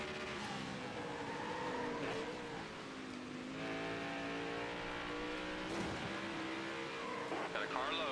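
Race car engines in the NASCAR Heat '23 video game drone continuously, with pitch shifting as cars accelerate and pass, while a commentator talks over the steady roar.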